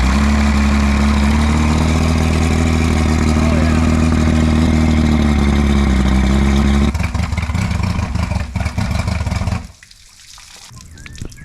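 A 1958 Johnson Super Seahorse outboard motor idles with a loud, steady low drone and water trickling, then the engine note cuts away and the sound drops to quieter rustling near the end.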